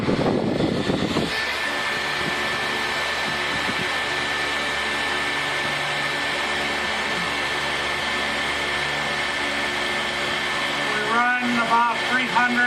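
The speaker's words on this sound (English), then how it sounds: "Now I'm going to turn the hair dryer on maximum." A hair dryer switched to its maximum setting blows a steady, loud broadband whoosh with a faint motor hum, continuous throughout, with a brief thump at the start and a short whirring change near the end.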